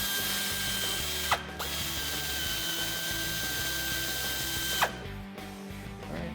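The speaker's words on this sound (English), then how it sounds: "I have a deep 15 millimeter socket on my air ratchet" An air ratchet fitted with a deep 15 mm socket spinning bracket bolts loose on a Mustang sway bar, a steady close mechanical buzz with a couple of sharp air bursts and clicks, no talk.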